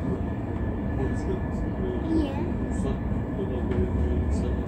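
A passenger train rolls along the tracks, heard from inside the carriage as a steady low rumble and hum with faint clicks, while people talk quietly in the background.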